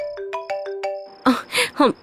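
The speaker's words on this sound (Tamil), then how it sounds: "என் ஃபோன் தானே ரிங் ஆகுது, எங்க வச்சுன்னு தெரியலையே. பெட்ரூம்ல இருந்து தான் சத்தம் வருது." A mobile phone ringtone plays in a bedroom at night: a sequence of bright, evenly spaced electronic tones, followed by louder, more clattering chimes near the end. No speech is heard.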